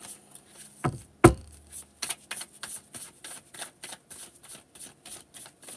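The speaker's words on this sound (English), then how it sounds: "I got these cards all shuffled up" A deck of tarot cards being shuffled during a live reading, giving a quick run of soft, papery riffles and taps in a steady rhythm after a couple of sharper knocks near the start, close and moderately quiet with no talk.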